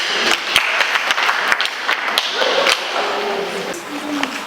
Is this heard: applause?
yes